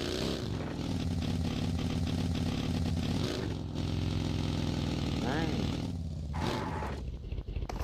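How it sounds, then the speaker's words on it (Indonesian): A motorcycle engine idles and revs with a buzzing, uneven drone in a PUBG match on the Erangel map, loud and close for most of the clip, with people talking over it. "Ada motor. Ada kereta motor pun jadi."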